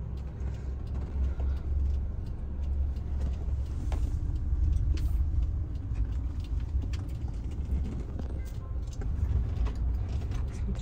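Car interior on a road drive in Korea, with a steady low engine and road rumble and tire noise throughout, moderately loud and constant, no talking.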